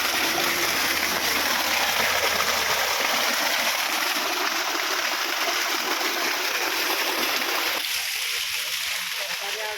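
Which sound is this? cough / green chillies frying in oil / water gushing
water gushing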